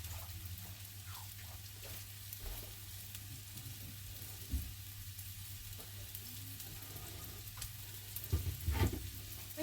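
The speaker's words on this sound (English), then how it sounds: "When searing your meat, it really is a good idea, because you get more flavour, to let it go nice and dark like that." Beef sears in a frying pan, a continuous crackling sizzle with a low hum beneath and a few louder spatters and stirring knocks near the end.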